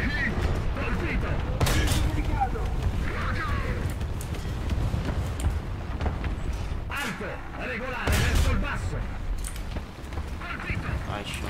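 Heavy tank cannon and gunfire from a tank combat video game featuring T-34s: a few sharp, loud booming blasts break through constant battle rumble while voiced radio callouts talk over the action.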